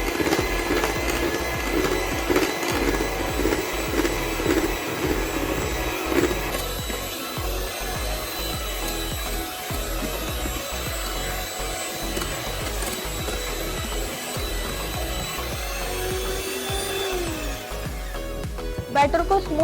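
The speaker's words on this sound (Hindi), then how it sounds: "हम यहाँ पे इलेक्ट्रिक बीटर की मदद से अच्छे से मिक्स करेंगे।" Electric beater whirring steadily while mixing vanilla cake batter in a bowl, a continuous close motor drone with faint rattling of the beaters, running throughout.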